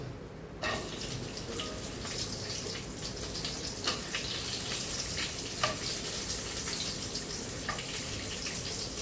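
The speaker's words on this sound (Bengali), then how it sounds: "দিয়ে দিচ্ছি কিছুটা চীনা বাদাম" Peanuts fry in a pan with a spoonful of black cumin seeds while fish-head pointed gourd curry is being made. A steady, soft sizzle runs throughout with scattered small crackles and pops, and no voices.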